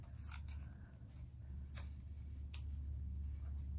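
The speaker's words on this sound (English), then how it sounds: "I'm going to take my scissor and I'm going to cut in a slant direction." Scissors snip through paper at a slant while a paper wall decoration fan is crafted, giving a few sharp, close cuts spaced apart over a low steady background hum.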